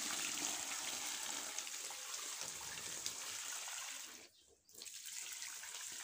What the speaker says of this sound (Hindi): इसी तरह हम सारी बोतलें धो लेंगे।